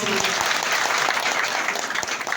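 Dense, continuous clapping from an audience in an auditorium gathering, loud and steady throughout the short stretch with no talk over it.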